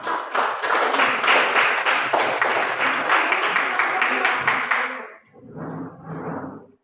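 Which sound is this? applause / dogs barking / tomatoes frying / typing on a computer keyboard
applause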